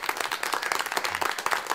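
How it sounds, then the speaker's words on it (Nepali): An audience at a televised talk-show conversation claps in a dense, steady burst of applause, fairly loud and close, with no talk over it. "बडा राम्रो यो ताली अझै बढी बज्नु पर्थ्यो"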